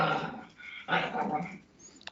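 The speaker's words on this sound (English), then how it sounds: "That's our dog's wrestling." Two dogs wrestling indoors, trading short growls, grumbles and whimpering yelps in a brief, close burst of rough play.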